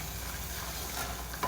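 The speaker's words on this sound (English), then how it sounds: "Alright, so now it's seriously boiling." Melting sugar boils hard in a pan while a cake is being made, giving a steady, dense sizzling and bubbling hiss that continues without a break.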